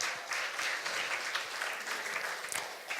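Guests clap at a wedding reception at Mulino's in Eastchester, New York, a steady, fairly distant round of many hands lasting about three seconds, with a few louder individual claps near the end and no speech over it.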